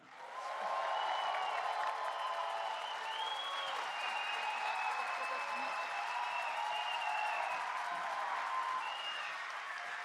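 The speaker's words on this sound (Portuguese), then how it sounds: "acolhemos com uma calorosa salva de palmas a senhora ministra do Meio Ambiente, Marina Silva." Audience welcoming Brazil's environment minister at her swearing-in ceremony with sustained, dense applause and some cheering, steady and fairly loud for the full stretch without speech.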